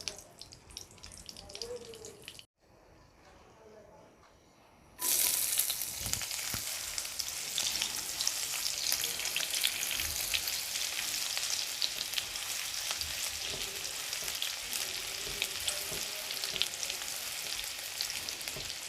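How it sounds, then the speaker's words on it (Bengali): Whole cloves and cardamom pods hit hot oil after a few seconds of low kitchen noise, setting off a loud, steady crackling sizzle that carries on to the end. "এখন দিয়ে দিচ্ছি লং ও এলাচ কয়েকটি। কিছুক্ষণ ভেজে দিয়ে দেব পেঁয়াজ কুচি 1/4 কাপ।"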